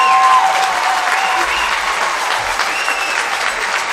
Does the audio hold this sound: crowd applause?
yes